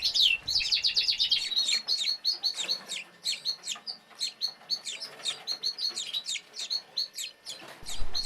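A young redpoll-bullfinch hybrid bird calls close by, giving a quick run of high chirps followed by a steady series of short, repeated call notes with no voices.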